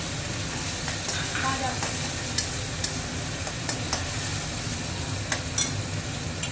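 Half an onion sizzles and fries in a pan while being stirred, with a steady broadband crackle and occasional scraping clicks of the spoon, for a Bengali mango kasundi bhuna chicken.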